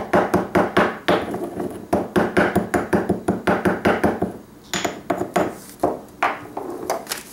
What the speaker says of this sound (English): a mortar and pestle, and I will pound that and grind that